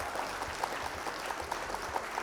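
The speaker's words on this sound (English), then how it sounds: "Round of applause for our opponent though." Faint, even applause for the opponent after a won match of a trading card game, with a regular, almost mechanical clapping pulse over a steady hiss.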